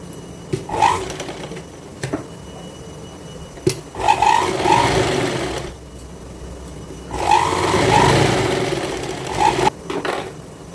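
A sewing machine stitches a fabric strip for a child's cordset in two bursts of rapid whirring, each a few seconds long, with quiet handling, clicks and thumps between them.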